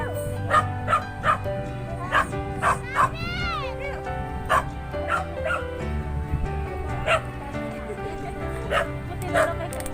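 A dog on a beach barks and yips in repeated short bursts, with a whimpering note among them, close and loud over background chatter and talking voices.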